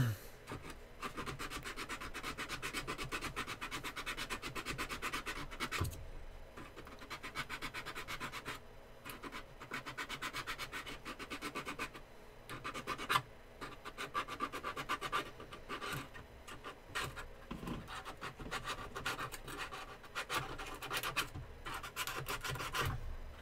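Sandpaper wrapped around a metal file is worked along the inside of saw teeth, giving a steady, close, dry rasping scrub in repeated strokes with brief pauses, no talking.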